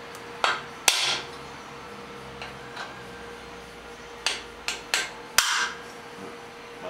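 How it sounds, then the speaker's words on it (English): A transfer punch struck with a hammer to mark mounting holes in metal, a series of sharp ringing taps at uneven intervals, close and fairly loud over a steady background hum, with no talking. "We're going to go ahead and we're going to transfer punch the mounting holes."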